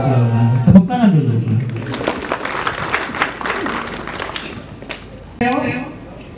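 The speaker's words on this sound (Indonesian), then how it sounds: "Tepuk tangan dulu." An audience at a regency official's gathering in Lanny Jaya bursts into applause after a voice, the clapping swelling for a few seconds before fading, with talk resuming at the end.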